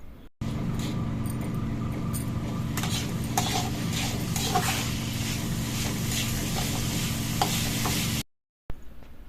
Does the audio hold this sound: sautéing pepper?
yes